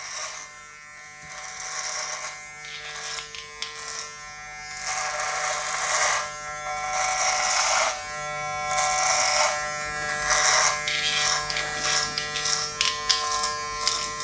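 An electric trimmer buzzes through a long beard, close and steady, its drone rising and falling in short passes as it works over the hair.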